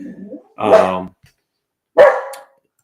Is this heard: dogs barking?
yes